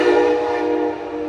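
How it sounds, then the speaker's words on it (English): A passing train sounds a long, steady, loud horn blast that holds for the whole moment, sitting near a Yamaha T50TLRD 50HP outboard motor under repair. "So sorry about the train"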